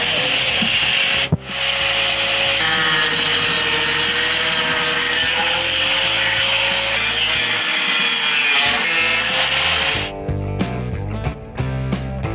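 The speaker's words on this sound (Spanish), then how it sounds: "hay que cortar esta pestaña y hay que dejarlo como el otro paragolpe" A tab is cut off a car bumper with a steady sawing, rubbing rasp that runs continuously and close, then breaks into short choppy strokes near the end.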